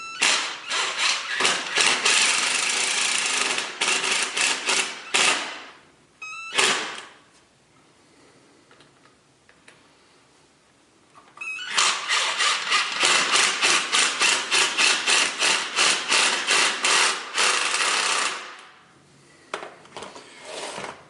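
Tapcon concrete screws are power-driven through a metal toilet flange ring into a floor, two long bursts of loud, rough grinding motor whir with brief pauses and a quiet gap between them.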